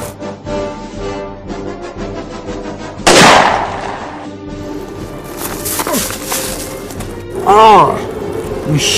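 A single loud, abrupt gunshot effect bursts out in the middle of a comedy sketch, surrounded by music and talking before and after it.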